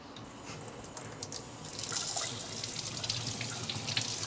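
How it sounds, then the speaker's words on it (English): A large cucumber is rinsed under a running kitchen tap, a soft, steady stream of water that grows fuller and splashier about halfway through, with a few dripping splashes and no voices. "All right, we got our large cucumber. Yeah, I'm gonna wash this now."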